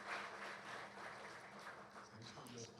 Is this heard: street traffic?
no